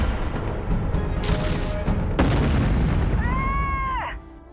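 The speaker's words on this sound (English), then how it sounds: "the autocannon connected with the cockpit, taking our pilot out in a single shot without even destroying it" An autocannon shot strikes a mech cockpit in the MechCommander 2 video game: a loud, sharp impact boom with crackling debris, followed by a descending electronic whine as systems power down.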